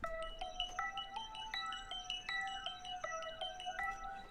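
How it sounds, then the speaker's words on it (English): Mallet bell melody run through a phaser effect, quiet chiming notes in a steady pattern with a slightly swirling, shifting tone and no voices. "but for this one I added a phaser bitron to it."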